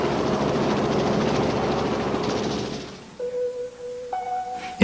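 A helicopter in flight makes a loud, steady roar of rotor and engine noise for about three seconds, then cuts away to quieter, thin tonal sounds.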